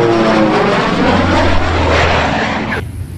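A blue and a white acrobatic airplane fly past with a loud, continuous propeller-engine drone, close and steady throughout, then cutting off abruptly near the end.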